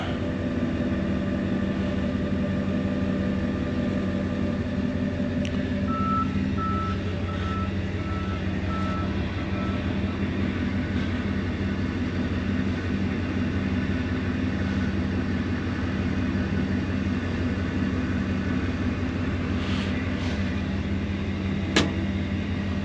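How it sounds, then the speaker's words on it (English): Reversing truck pulling a load, its backup alarm beeping steadily over a constant low engine drone for a long stretch, with a few clanks near the end. "I'm gonna just pull the truck out."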